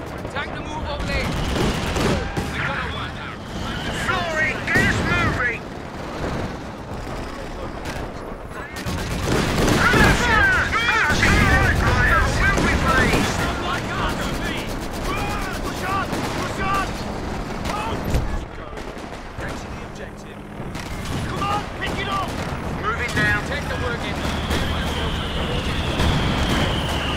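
Gunfire and explosions from a large 4v4 Company of Heroes 2 battle, with overlapping volleys, bursts and booms running continuously, densest midway through, under talk from the players.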